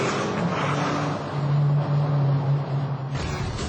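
Ferrari 575M GTC engine pulling hard after a downshift, a steady droning note that swells louder midway through, heard from inside or near the car with no voices.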